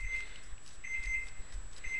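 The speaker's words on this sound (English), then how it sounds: "That's my timer." A kitchen timer beeps in three repeated high-pitched bursts, steady and moderately loud over a low background hum, with no talking.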